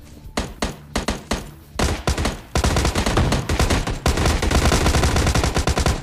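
Gunfire in the battle royale game PUBG: a few separate loud shots at first, then dense rapid automatic bursts that run on without a break, with no talk.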